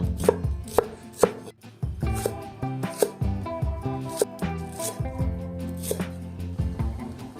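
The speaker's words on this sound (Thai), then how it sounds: "หั่นหอมแดงและต้นหอมผักชีค่ะ" A knife chops shallots, spring onions and coriander rapidly on a board, sharp uneven strikes in quick bursts with brief pauses, close and clear, no talking.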